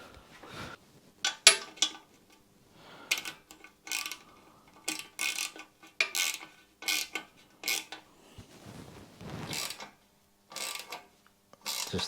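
Socket set ratchet tightening bolts on an orange Royal Enfield motorcycle, bursts of close clicking ratchet pawl strokes in short irregular runs, with some light metallic handling between them.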